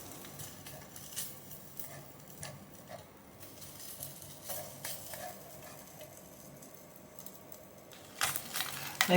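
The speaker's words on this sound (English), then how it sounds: "Using either your spoon or a small spatula, continue to agitate that Spam so that it will brown on all sides." Spam browning in a mess kit pan, stirred with a spoon or small spatula: a steady quiet sizzle with light scraping and clinks of metal on metal, a louder scrape near the end.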